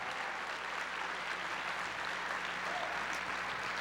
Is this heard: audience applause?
yes